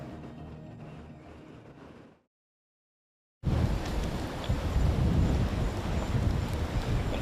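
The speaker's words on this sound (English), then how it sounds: "The wind's actually hammering through." Strong wind roaring across an exposed clifftop headland in Cape York, gusting near 50 knots; a loud, continuous buffeting rush with low rumble, dropping briefly to near silence before surging back even harder.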